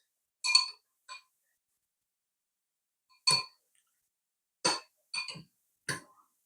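Spoon clinking against a cup of nutmeg tea, about six short bright taps spaced irregularly over quiet silence.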